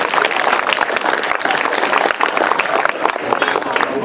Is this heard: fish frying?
no